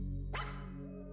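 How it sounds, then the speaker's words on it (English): A dog barks once, a single sharp, fairly close bark that trails off into a brief fading tail over a steady low rumble, with no voices. "A bark."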